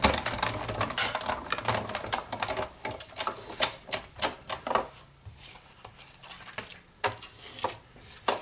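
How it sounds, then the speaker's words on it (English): A Big Shot die-cutting machine being cranked through with cutting pads, a rapid run of clicking, ratcheting mechanical taps that pause briefly midway and then resume, close and fairly loud, no voices. "Another cutting pad on top, and run it through."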